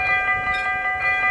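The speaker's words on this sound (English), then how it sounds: "Train passes away." A train rumbles past a railway crossing in the Netherlands while the crossing signal holds steady tones, loud and close throughout, with no talking.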